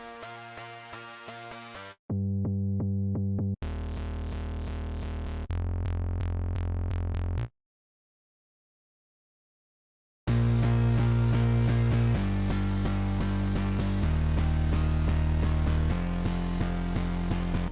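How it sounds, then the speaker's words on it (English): Layered synth mid bass for a progressive house track built in FL Studio, four stacked layers playing sustained bass notes in short phrases separated by gaps and a silent break, loud and dense with no talking. "For the mid bass, we have 4 different layers that sounds like this."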